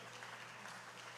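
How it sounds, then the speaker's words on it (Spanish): A church congregation applauds during a Sunday service to welcome a visitor, a dense, sustained clapping that fills the whole short moment. "Aplausos para Wendell"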